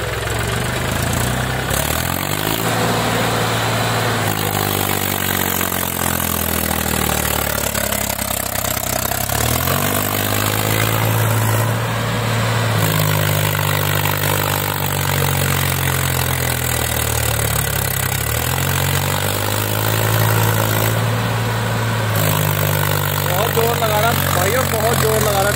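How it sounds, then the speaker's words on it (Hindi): A heavy Mahindra 265 DI tractor engine roars continuously and loudly hauling a heavily loaded trolley, its pitch rising and falling as it labours, with voices underneath. "बहुत जोर लगा रहा ट्रैक्टर"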